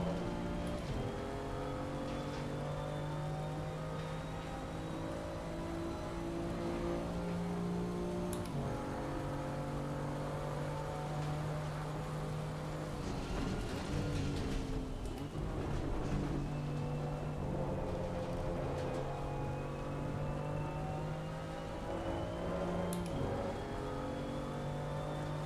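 A BMW M2 CS race car lapping Silverstone, its engine droning loud and steady with rising and falling pitch as it shifts through gears, continuous and close throughout.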